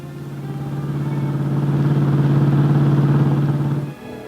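A heavy diesel engine drones at an open-pit coal mine where giant shovels load trucks, a loud steady low rumble that swells, holds for several seconds, then drops off abruptly.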